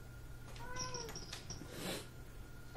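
A cat gives a couple of short, close meows, then a louder drawn-out yowl, over a steady low hum indoors.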